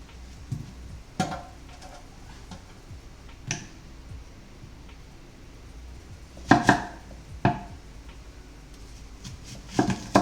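Onions being chopped with a knife on a board while cooking crispy-skin salmon: scattered, sharp thunks and taps at an uneven pace, some louder clusters, in a quiet kitchen with no talk.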